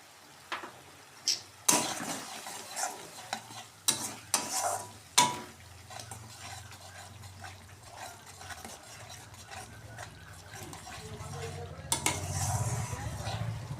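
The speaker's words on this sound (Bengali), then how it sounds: "দেখি ভালো করে ভাজি, যতক্ষণ না কাঁচা গন্ধটা বেরিয়ে যায়।" Turmeric and chili powder fried in a pan, with a spoon clattering and scraping against the metal in several sharp knocks, followed by a low, steady sizzle that grows louder near the end.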